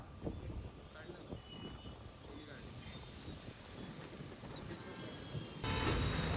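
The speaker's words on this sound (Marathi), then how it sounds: "पाऊस जो आहे तो पुणे शहर आणि उपनगरामध्ये सध्या सुरू आहे।" Steady heavy rain pours down in Pune, a dense broadband hiss that grows louder near the end, with faint distant voices in the background.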